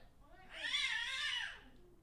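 A cat lets out a single drawn-out, rising and falling meow lasting over a second, fairly faint against a quiet background.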